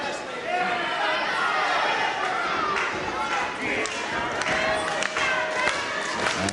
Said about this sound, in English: And the crowd don't like it at all.